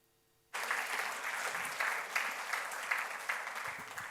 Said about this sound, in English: Let's make an applause to Andrea and.